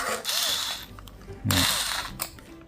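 A screwdriver loosens the screws on a 1st Player CY12-D CPU cooler, giving a run of clicking, ratcheting turns with small metallic rattles and short scraping pulls, close up and fairly loud.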